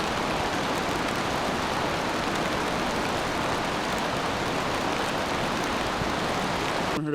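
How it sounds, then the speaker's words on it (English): Rain falls on the Berg Lake Trail in Robson Provincial Park, a steady, even wash of close patter with no pauses and no voices. "I'm 5 minutes in and I am already being rained on."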